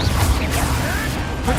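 A Confringo fire spell blasts in the Hogwarts Legacy video game, a loud, dense burst with a whooshing sweep layered over continuous game action.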